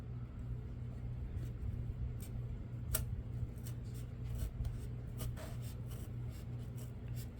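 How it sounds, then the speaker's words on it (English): An X-Acto craft knife scratches a line across fabric for kinusaiga, giving soft, close scraping strokes and small ticks over a steady low room hum. "I want to take my X-Acto and I want to cut a line across here."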